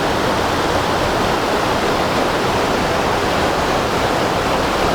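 Water pours between old timbers inside the abandoned Steep Rock iron mine at Atikokan, Ontario, making a loud, continuous rushing roar that stays even from start to finish with no voices.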